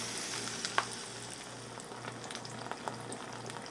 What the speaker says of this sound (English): I'll let it simmer for a while